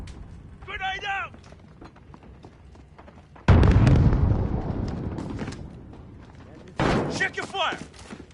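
A grenade explodes in Call of Duty: Modern Warfare, a sudden loud, deep blast with a long rumbling tail, followed a few seconds later by another burst of combat noise, with shouted voice callouts heard between.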